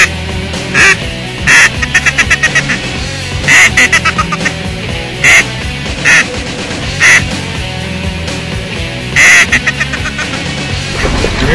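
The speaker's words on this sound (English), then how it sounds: "Ducks just got off the pond." Ducks and geese call loudly near a pond during a hunt in Alberta's Peace Country, with repeated quacks and honks arriving in bursts over a steady background.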